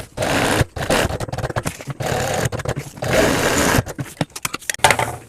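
A sewing machine runs in loud, near bursts while stitching fabric for a homemade children's school bag, with short pauses between runs of steady mechanical whirring.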